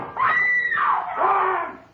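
A woman's shrill scream, loud and close, rising and wavering in two long drawn-out bursts with no other sound around it.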